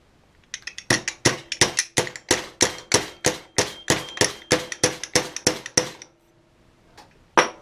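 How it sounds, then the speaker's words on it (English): Steady metallic hammer blows, about twenty sharp knocks in an even rhythm, close and loud, then a pause and one final strike. "let me hammer that in and I'll be back"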